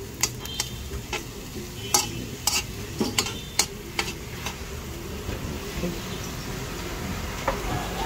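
Food dry-roasts in a pan without oil, with tomato among the ingredients, and a utensil stirs and scrapes it in a series of sharp clicks over a faint, steady sizzle.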